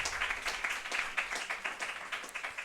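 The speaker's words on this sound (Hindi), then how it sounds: "जोर से ताली बजाओ।" A church congregation claps loudly for Jesus during a Hindi sermon, a dense, steady wash of many hands filling the whole moment with no voices on top.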